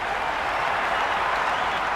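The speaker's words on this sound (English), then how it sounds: "Will you listen to that crowd?" A stadium crowd applauds and cheers in the Cricket 26 video game during a Big Bash League match, a dense, steady roar of clapping that fills the whole stretch with no pauses.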